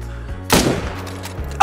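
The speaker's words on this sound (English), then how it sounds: "I can hear somebody shooting." One sharp gunshot rings out in the hunting video game Call of the Wild. It is a sudden loud crack with a short decaying tail over a low steady background hum.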